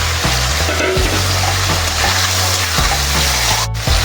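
Fried potatoes are added to a cooked spice mix in a pan and sizzle loudly up close, with scraping and stirring knocks and a brief watery splash near the end.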